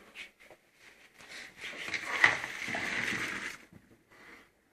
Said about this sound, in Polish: Będziemy go odcedzać.